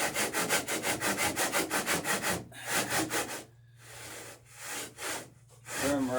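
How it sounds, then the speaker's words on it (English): A hand saw trims a wooden boat plank toward the stem at a bevel angle, a close, rhythmic rasping of quick even strokes, then slower, interrupted cuts with short pauses between. "bring the saw at the same angle that plank bevel will be at, right up to the stem"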